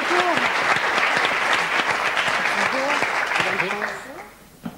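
Studio audience applause on a French TV game show, loud and sustained for about four seconds with talk over it, then thinning out as it dies away.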